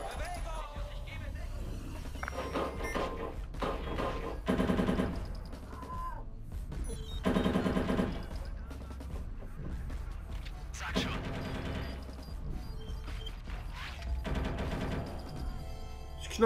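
Gunfire in the video game Watch Dogs 2 comes in repeated bursts of shots, fairly quiet and spread through the scene, with a player talking over it.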